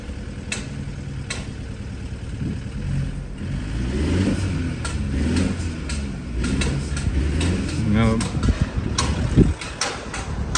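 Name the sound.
used car engine revving at auto auction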